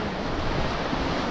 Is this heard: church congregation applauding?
no